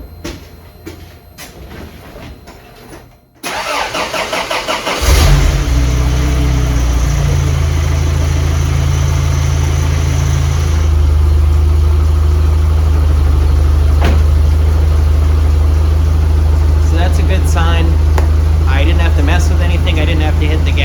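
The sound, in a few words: supercharged Toyota 22RE engine idling after start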